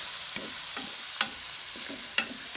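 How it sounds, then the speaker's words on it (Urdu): Onions frying in hot cooking oil for aloo anda bhujia, giving a steady low sizzle with several short clinks of a spoon stirring against the pan, close and alone. "پیاز ڈال دیں، 1 منٹ تک پیاز کو فرائی کریں گے۔"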